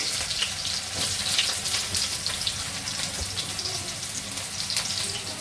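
Chopped onions hit hot oil in a pan while a chicken curry is being prepared, giving a continuous, close, loud sizzle with faint stirring scrapes and no talk.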